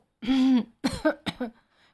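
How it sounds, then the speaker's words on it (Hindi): A person clears their throat several times in quick, rough bursts, close and fairly loud, one longer rasp followed by shorter ones. "पहले उसने अपना गला साफ किया, थोड़ा खंखारा"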